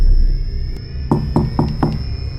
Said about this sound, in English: It came from outside like someone knocking a stick on the floorboards